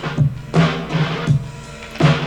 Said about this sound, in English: The drum sample usually sounds like this.